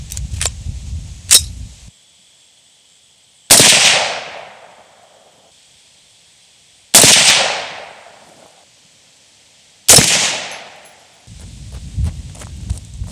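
Three loud, sharp rifle shots fired from a bipod on outdoor shooting lanes, evenly spaced a few seconds apart, each with a trailing echo, with quiet rustling and handling noises before and after.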